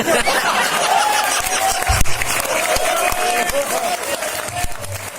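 An audience at a Hindi satirical comedy poetry gathering (kavi sammelan) claps in sustained, dense applause, mixed with chuckles and a voice, from a large crowd in a hall.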